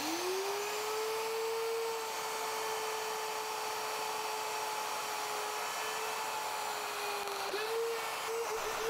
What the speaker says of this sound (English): I cut my mortises first in all the legs